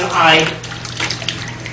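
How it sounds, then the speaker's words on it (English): Water overflowing from a tube as a weighted tube is lowered into it during a potato rust-removal setup, a steady close splashing rush that swells early and then settles into a continuous trickle. "see, there's the water overflowing"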